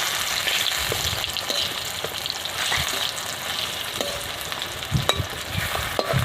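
Balsam pear (kakrol) pieces frying in a pan, a continuous dense sizzle with crackling spatter, a few louder pops near the end, no voices.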